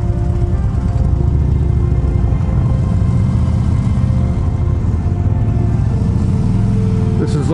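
Motorcycles on a road in Maine, a loud continuous engine drone and wind rumble up close from a moving bike, steady throughout with no clear pauses.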